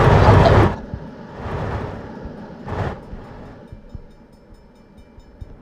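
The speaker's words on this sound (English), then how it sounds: "Oh look, it's a freight train." Freight train in the Trainz railway simulator, heard as three loud rumbling bursts that fade progressively over several seconds, leaving a quieter low rumble with faint clicks.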